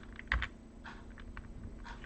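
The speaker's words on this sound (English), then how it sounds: "you can use the keyboard, the arrows up and down to kind of align it" Computer keyboard arrow keys tapped up and down while nudging an image into alignment, with one sharper press standing out among a few faint, scattered clicks in a quiet room.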